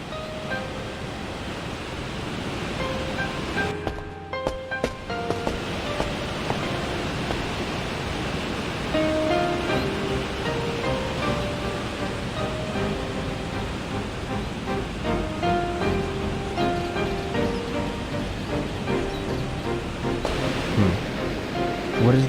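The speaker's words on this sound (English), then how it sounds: "It sounds like a waterfall. I hear it from the path on the left." A steady, broad rush of falling water from a waterfall in the video game Shenmue 2 continues throughout, with soft game music tones layered over it and a brief dip partway through.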